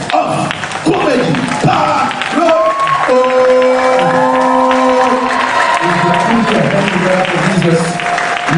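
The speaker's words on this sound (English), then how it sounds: "If you are clapping for Jesus, you can do it better" A church congregation at ICGC Eagles Temple claps and cheers loudly and steadily, with whoops rising over sustained applause while an amplified voice talks over it.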